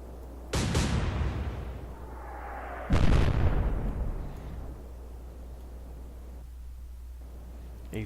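Torpedo explosions in a naval video game, two heavy booming blasts a couple of seconds apart, each followed by a rumbling decay over a low steady hum.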